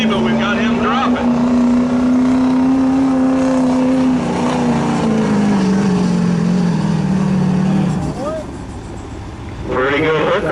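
A pulling truck at a truck pull hauls the sled with a loud, sustained engine roar that sags in pitch as it bogs, then cuts off, with an announcer talking over it.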